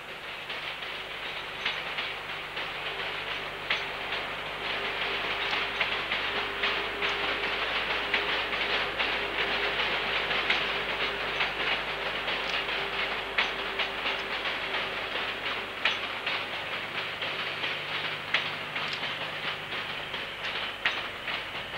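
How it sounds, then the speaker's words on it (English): A prototype Advanced Passenger Train rumbles past steadily at Oxenholme with a broad roar and rhythmic clatter of wheels over rail joints, loud and continuous throughout, no voices. "advanced passenger train seen here at Oxenholme"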